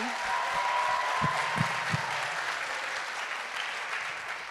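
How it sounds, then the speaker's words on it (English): An audience at a Black History Month celebration claps for a fraternity's performance, a steady wash of applause with a few louder thumps and a faint tone early on, continuing evenly throughout. "Can we get another round of applause for them?"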